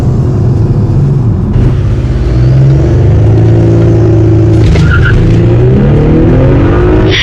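An Audi SQ5 with an aftermarket downpipe revs up close by, its exhaust giving a loud, continuous drone that climbs and falls in pitch with each blip of the throttle.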